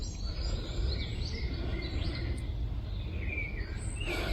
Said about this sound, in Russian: Слышите, птички поют?